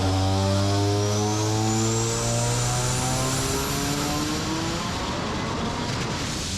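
A rotary-engine Corvette revving hard under boost, a loud, sustained high-pitched engine roar with sweeping harmonics as revs climb and fall, close and with no voices.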